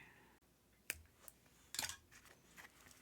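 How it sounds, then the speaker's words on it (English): Jewelry wire being cut during beaded necklace making, with a couple of brief, sharp snips heard close up against a quiet background. "Just going to cut that wire."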